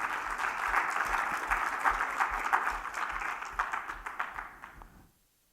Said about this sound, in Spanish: Si lo cree, dele palmas al Señor, porque Él es bueno.